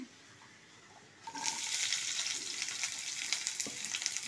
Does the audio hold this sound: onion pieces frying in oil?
yes